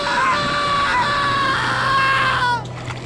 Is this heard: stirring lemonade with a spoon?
no